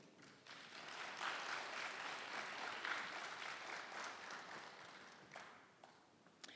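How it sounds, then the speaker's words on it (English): Audience applause at a gala honoring scholarship recipients, a sustained wash of many hands clapping that swells and then gradually thins toward the end, heard at a distance and fairly quiet. "give another round of applause to our scholarship recipients"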